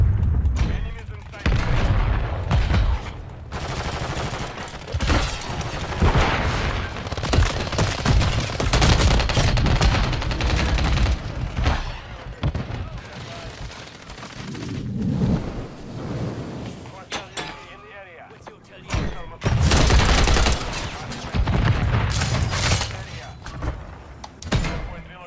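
Gunfire in Call of Duty MW3, with dense, loud bursts of rapid shots and booming impacts repeating over about twenty-five seconds, broken by brief quieter gaps, with a voice talking over parts of it.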